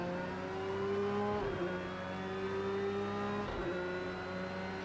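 Race car engine in Project Cars 2, a steady, loud, high-pitched drone held close, with two brief dips where the driver shifts gear before the tone climbs again.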